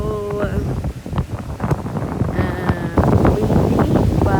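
Gusty wind buffets the microphone on Boracay beach, rough and close, with speech and the wash of waves mixed under it.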